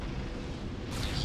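A missile launches and bursts in Metroid Prime 3: Corruption, a short rumbling blast that stays loud for over a second before a brighter crackle near the end.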